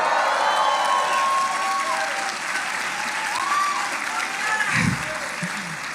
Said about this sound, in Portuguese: mas foi muito ruim esse aplauso